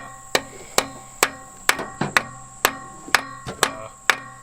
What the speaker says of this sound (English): let me see your hammer